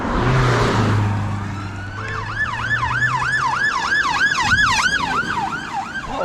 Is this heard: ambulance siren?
yes